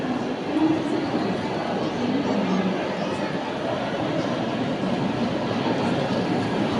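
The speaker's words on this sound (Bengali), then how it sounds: "ওই দেখো আমাদের ট্রেন ঢুকছে, দিল্লি স্পেশাল" A Delhi Special train pulling into a station platform, a steady low rumble with faint rail noise in the background, mixed with station ambience and brief distant voices.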